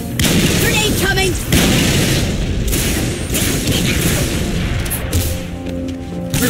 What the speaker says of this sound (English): Grenade coming!